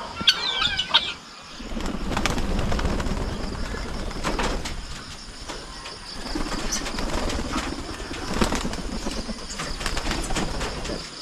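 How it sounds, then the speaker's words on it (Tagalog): Pigeons released from a rural hut's coop at a chilly dawn, with repeated bursts of wing flapping and some faint cooing amid steady farmyard noise, close by. "Pinalabas natin yung ating mga kalapate."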